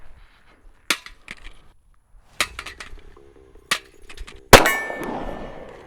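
A red dot pistol optic drops onto a stainless steel water bottle in a durability test, giving four or five sharp metallic clangs spread apart. The last impact is loudest and rings on with a bright, lingering metallic tone.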